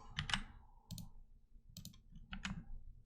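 Typing on a computer keyboard produces quiet, close, irregular clusters of plastic key clicks with short pauses between bursts.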